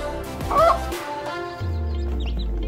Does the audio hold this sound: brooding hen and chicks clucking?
yes